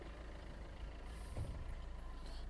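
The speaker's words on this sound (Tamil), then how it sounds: "இன்ஜின் சவுண்டு பாருங்கள், அவ்வளோ ஸ்மூத்தாக இருக்குது நமக்கு" A diesel Maruti Ertiga seven-seater engine runs at a steady low idle, a continuous near rumble with no talk over it.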